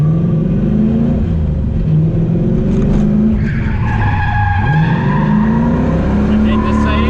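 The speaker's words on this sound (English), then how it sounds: "bounce the clutch out, a little bit of a drag race pull out to keep the wheel spinning, and then turn through its 360 from there" A drift car spins through a 360 with handbrake and wheelspin, its engine roaring loud and close while tyres squeal and skid continuously, with revs rising and falling through the turn.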